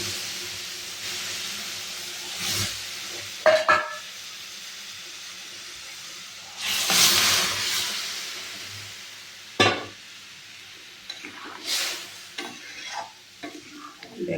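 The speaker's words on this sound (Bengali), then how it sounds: "এখন আমি ডালগুলো" Mung dal tipped into a pan of frying papaya, with a steady oil sizzle and hiss running throughout and a few louder bursts of stirring and scraping rising over it.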